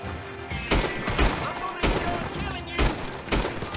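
Gunfire in Red Dead Online: four sharp, loud shots spaced about a second apart, each with a short echoing tail, close up over a low game background.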